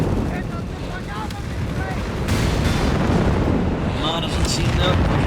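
Artillery volley rumbling in Company of Heroes 3 during a desert tank battle, a dense low booming wash with distant impacts layered beneath a caster talking over it throughout.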